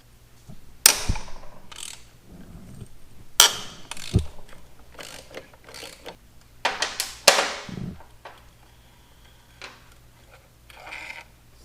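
A hand ratchet clicks in short bursts while backing a long bolt out of a Suzuki V-Strom motorcycle engine, close and sharp with pauses and metallic handling between turns.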